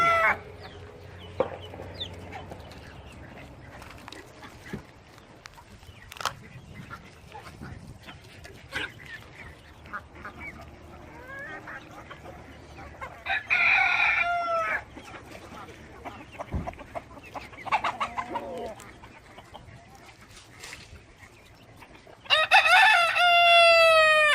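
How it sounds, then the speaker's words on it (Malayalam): Black Kadaknath and native chickens on a farm in Al Baha, Saudi Arabia, cluck softly near and far, with a rooster crowing loudly twice, once midway and again at the end, and a dog barking in the background. "നാട്ടിൽ നിന്ന് ചേട്ടൻ ഒക്കെ മുട്ട കൊണ്ടുവന്ന് വിരിയിപ്പിച്ചെടുത്ത കരിങ്കോഴിയും നാടൻ കോഴിയും ഒക്കെ ഉണ്ട്"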